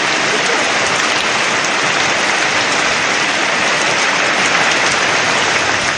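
Heavy rain pours down in a steady, dense, loud hiss with no breaks, filling the whole span without any voices.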